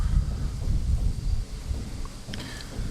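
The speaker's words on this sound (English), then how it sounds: "Boys, I think we're fixing to get ourselves a little storm." Thunder rolls and rumbles loudly through a storm near Loch Ness, a deep sustained roar that eases slightly midway, with rain noise underneath.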